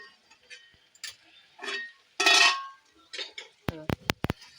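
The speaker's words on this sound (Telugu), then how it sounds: "క్యాప్ ఓపెన్ చేసి ఇలా కలుపుతూ ఉండాలి మధ్యలో, లేదంటే అడుగంటిస్తుంది." Pot lid lifted and bean aloo curry stirred, sharp metallic clinks and clanks of lid and spoon against the pot, with a cluster of bright strikes near the end, close and fairly loud.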